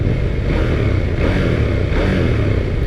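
A KTM 890 Duke R motorcycle engine gives a steady, loud, broad rumble with no clear change in revs over a few seconds.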